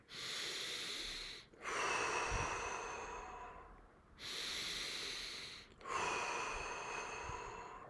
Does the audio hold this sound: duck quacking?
no